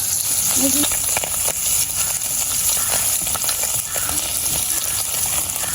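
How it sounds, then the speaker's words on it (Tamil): Fish frying in hot oil crackles and sizzles loudly and continuously, close up, with occasional scraping stirs and a faint voice in the background. "இப்போ நாங்கள் அந்த மீன் பொரிச்சு எடுத்து போட்டு பார்ப்போமே"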